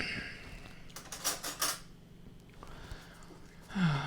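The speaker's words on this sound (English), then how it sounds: "Can you hand me a spoon though?" Metal spoons and cutlery clink and rattle in a home kitchen, a quick cluster of light, bright taps followed by a few scattered faint knocks, quiet and close.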